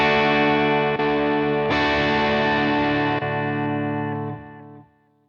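Fractal FM9 modeler switching amp channels with gapless off: a thick, driven electric guitar chord rings steadily while tiny dips mark quick channel changes, with no silent gaps, before it decays into quiet.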